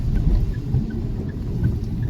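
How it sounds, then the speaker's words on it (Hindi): Heavy rain drums steadily on a car during a highway drive near the Noida ring road, a dense, continuous wash with low road rumble underneath, no talking. "और हो रही है तेज़ बारिश।"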